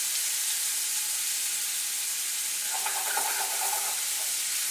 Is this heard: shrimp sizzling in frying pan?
yes